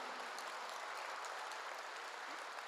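A church congregation applauding during a sermon, a dense, even wash of clapping that carries on steadily and sounds faint and distant, with no voices over it.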